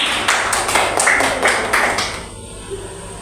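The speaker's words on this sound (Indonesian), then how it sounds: "Bagus, tepuk tangan." Students in a classroom clap in a brief, rhythmic burst of applause that fades out after about two seconds, leaving quiet room tone.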